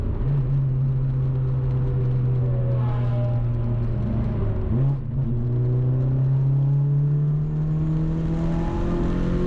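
A Renault Clio race car at Cadwell Park, its engine bump-started after an ignition cycle, droning loud and steady, dipping briefly, then climbing in pitch as it accelerates away, heard from inside the car.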